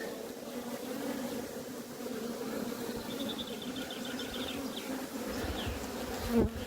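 Honeybees buzz steadily around an open hive during an inspection of brood frames, a dense close drone with a few higher individual buzzes passing near and a brief knock near the end.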